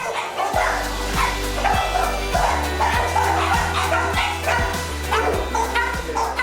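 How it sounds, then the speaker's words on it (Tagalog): Exotic Bully dogs at a home kennel in Antipolo that keeps about thirty dogs bark in a steady series of sharp woofs with some yips, close and fairly loud, over a constant low hum. "ang mga pedigree puppy at mga top breed na aso sa pamamagitan ng Bayabas Kennel mula sa Antipolo"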